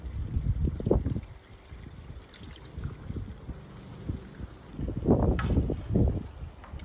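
Water, 400 ml, splashes and trickles steadily into a pan of curry, with clattering and a louder burst of pouring toward the end.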